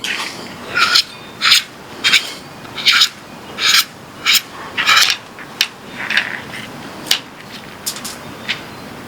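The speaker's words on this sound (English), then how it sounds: "Go ahead and next remove this black barrel nut." Black barrel nut being worked off a 9mm BinTac S45 Nitro airgun, heard as a series of short, close rasping turns in a regular rhythm, each a brief scratchy burst with small gaps between.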